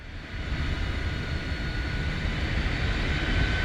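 Jet engine of the iniBuilds T-33 in Microsoft Flight Simulator, throttle eased up during an instrument approach: a steady, loud turbine roar with broadband hiss that builds slightly, heard alone without talk.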